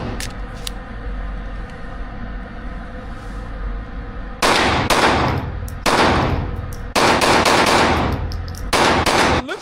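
A gun that ejects its rounds from the bottom is fired through a magazine, with several loud, dense bursts of rapid shots arriving close together over a steady background rumble after a few quieter seconds.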